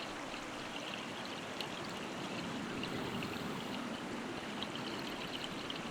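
Shallow stream water runs steadily over pebbles and sand at a salmon spawning ground, a continuous close babbling rush with no voices.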